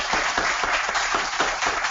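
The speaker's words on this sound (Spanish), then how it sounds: "Agradezco a Carlos Salazar y le damos un aplauso" Sustained applause from a lecture audience for speaker Carlos Salazar, with dense, even clapping over two seconds and no one talking over it.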